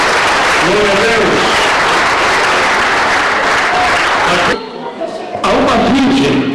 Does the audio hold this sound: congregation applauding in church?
yes